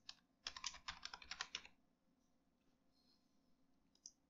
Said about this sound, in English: I will type in here text